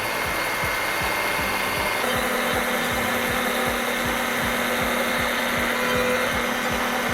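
Steve's Polishing Pro diamond pad polishing Suva tile at 400 grit with light pressure, a steady whirring grind with a regular rhythmic thump from the rotating pad, close and continuous.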